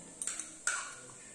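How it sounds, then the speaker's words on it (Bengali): Small toy pots being stirred with a little spoon while Maggi masala is mixed into the food: a few quick light clinks, then a brighter metallic tap that rings briefly, close and quiet. "ম্যাগি মশলাটা দিয়ে এবার নাড়া দাও।"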